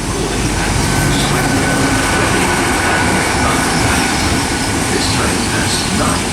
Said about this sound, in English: arriving now is the delayed 1303 Great Western Railway service from Swansea to London Paddington